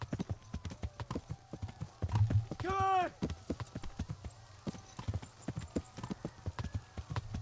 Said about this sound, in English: How do I control this horse?